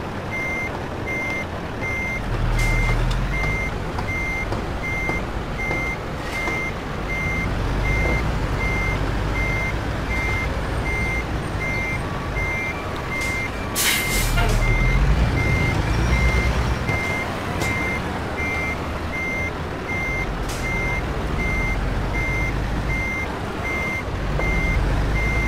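A truck backing up in American Truck Simulator, its reversing alarm beeping steadily and evenly throughout over a continuous low engine rumble, with no talking.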